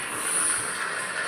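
Train pulling away from a large railway station, a faint, steady broadband rush with a high metallic whine, heard from a distance without voices.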